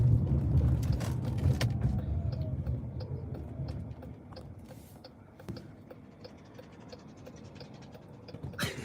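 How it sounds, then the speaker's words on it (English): A car passes with a loose plastic underplate flopping and scraping underneath, a rattling clatter fading off as it moves away, with ticking mechanical noise trailing behind. "That car's got something flopping under his car"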